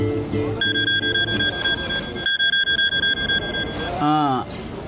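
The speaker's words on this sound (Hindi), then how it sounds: "विधा धनंजय लहरे, किसी ने आपको कॉल किया?" A phone rings with a steady electronic tone for a few seconds, followed by a short burst of warbling ringtone notes; faint talk sits underneath.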